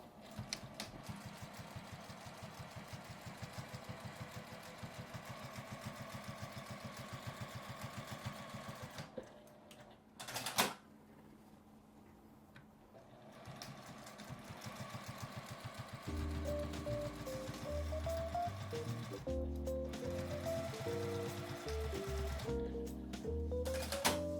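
Domestic sewing machine running seams along both edges of ironed fabric for a small accordion-style wallet, a fast even mechanical whirr that pauses briefly mid-way, then resumes alongside soft background music; no talking.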